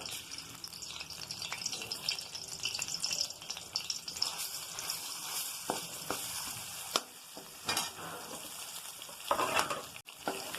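Ginger garlic paste and green chilies frying in a pan for chickpea curry, a steady close sizzle with stirring scrapes and brief clinks, a louder burst near the end, no voices.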